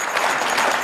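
A studio audience at a televised political debate breaks into a short, loud burst of dense clapping, brief and close with no speech over it.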